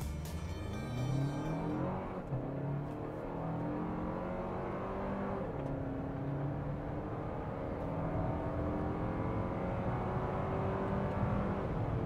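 A 2024 Toyota Highlander XSE SUV with 265 horsepower is floored from a stop, its engine note climbing steadily through the gears as a smooth, fairly quiet in-cabin drone with no talk.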